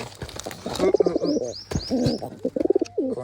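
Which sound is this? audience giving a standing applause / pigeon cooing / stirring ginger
pigeon cooing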